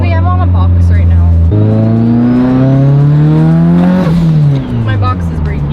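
A car accelerates hard in second gear, engine note climbing steadily in pitch through a long, loud pull, then a quick shift and renewed rise, with people talking over it up close.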